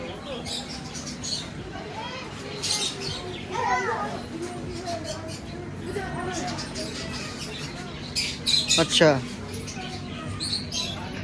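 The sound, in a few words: birds squawking and cooing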